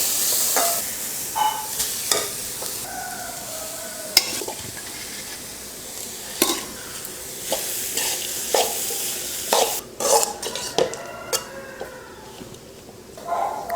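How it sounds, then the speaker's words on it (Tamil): Carrot rice is stirred in hot oil in a pan, with repeated scraping strokes of the spoon over a soft, steady sizzle, close up and with no talking. "இப்போ இதில் சாதத்தை போட்டு கிளறிக்கலாம்."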